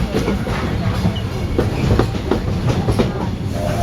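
The Magic Kingdom train at Walt Disney World rolls steadily along the rails, a continuous rumble with faint rhythmic clacking of wheels, loud and close throughout.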